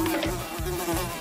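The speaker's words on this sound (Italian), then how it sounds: "Ferma, mostruosità ronzante! Uccidiamo quella mosca!" A housefly buzzes steadily and close, a continuous droning whine with slight rhythmic wavering in pitch, heard alone without talk.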